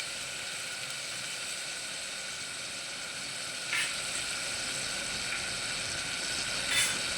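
Potatoes fry in a pressure cooker for vegetable biryani, giving a steady, close sizzle throughout with a couple of brief stirring scrapes and clinks partway through.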